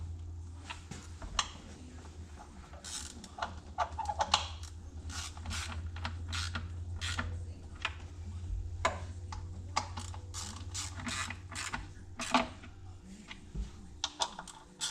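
A ratchet clicks in quick, irregular bursts while tightening bolts on the 3.0 engine of a 2004 Ford Escape, close and fairly crisp over a steady low hum.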